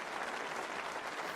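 Snooker crowd applauding the champion after a title-winning break, a dense steady roar of clapping from a large audience, with no voices standing out.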